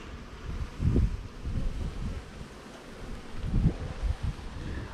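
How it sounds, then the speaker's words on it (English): Gusty wind buffeting the microphone in low rumbling bursts, strongest around two moments, with faint rustling between. "pretty windy day today"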